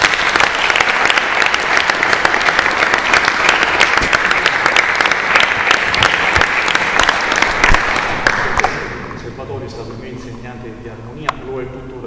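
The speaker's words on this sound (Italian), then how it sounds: "al quale veramente andrebbe un applauso doverosissimo" A concert audience at a Baroque-and-beyond chamber music performance by a duo applauds loudly in a dense, sustained burst for about eight seconds, then the clapping drops away abruptly and voices begin talking.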